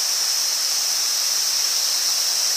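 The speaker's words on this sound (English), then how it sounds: "we've come to our first waterfall" Small waterfall on an Annapurna mountain trail, a steady hissing rush of falling water, even and continuous for the whole stretch with no other sounds.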